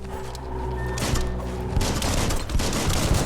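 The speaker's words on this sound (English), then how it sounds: "Bullets everywhere." Loud gunfire from the Biomutant video game, with dense overlapping shots and booms in a steady, continuous fusillade and no talking.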